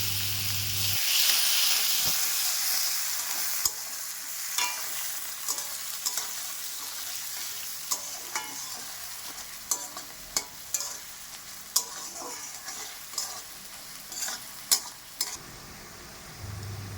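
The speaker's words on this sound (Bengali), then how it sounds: "এই তেলের মধ্যে তেজপাতা দিয়ে ফোড়ন দেবো। আগে থেকে কেটে রাখা পেঁয়াজ কুচি দিয়ে দেবো।" Bay leaves tempering and chopped onion hitting hot oil for a tilapia curry give a steady, close sizzle with intermittent clacks of stirring against the pan throughout.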